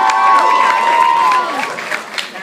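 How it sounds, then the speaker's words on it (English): A crowd of students and guests at a school event applauds their principal, with clapping and some cheering, and voices mixed into the noise as the clapping trails off. "Please give her a round of applause."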